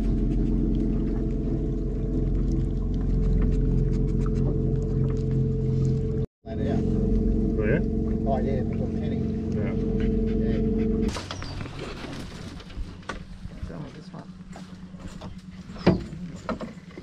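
A steady outboard motor drones on the water, loud and close, then drops lower and quieter near the end with splashing and a brief thump.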